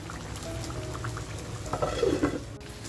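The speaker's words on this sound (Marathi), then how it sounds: "अजूनही म्हणाल ना तसं मस्त उकळतंय" Village-style crab masala simmers in a clay pot after the gas is switched off, giving a soft, continuous bubbling and sizzling with a few louder pops near the end.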